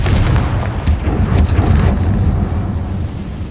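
Confringo blasting spell explosion in Hogwarts Legacy, a loud booming blast followed by a rolling rumble that slowly fades, with no voices over it.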